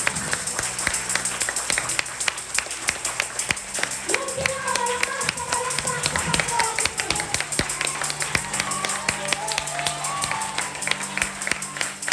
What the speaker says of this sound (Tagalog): Yung malakas na palakpak.